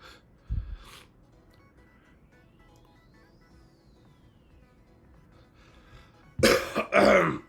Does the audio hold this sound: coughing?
yes